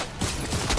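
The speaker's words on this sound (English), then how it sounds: "Shooting." Gunfire in the video game Fortnite, a rapid fusillade of shots packed into a short burst, loud and close throughout.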